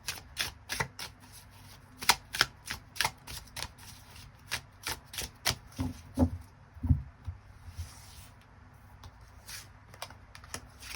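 Tarot cards are shuffled up close in a run of crisp, rapid riffles and taps, with a short pause partway through before the shuffling picks up again. No voices are present.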